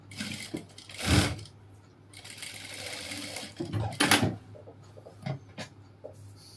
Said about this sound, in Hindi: ये यहाँ से सिलाई मारें, और ये भी आधे इंच के हिसाब से सिलाई मारें।